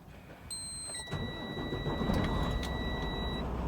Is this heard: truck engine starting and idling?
yes